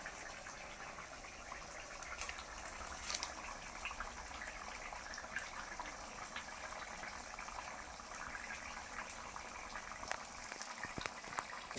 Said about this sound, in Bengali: ঝোল তো বেশ টকবক করে ফুটছে